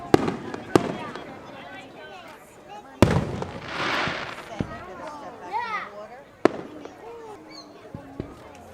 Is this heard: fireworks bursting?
yes